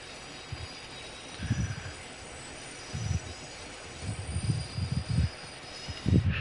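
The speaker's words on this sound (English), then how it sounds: "it's a subway train" A subway train runs in the Train Sim World 6 simulator, a steady rail rumble with repeated low thumps of wheels over track joints and a faint high whine throughout.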